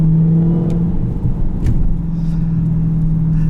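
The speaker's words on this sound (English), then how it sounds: "Just the sound of everything is unlike any other car I've ever driven." A 2020 Dodge Challenger Hellcat's supercharged engine rumbles with a deep, steady drone and slight revving while accelerating, close and loud throughout.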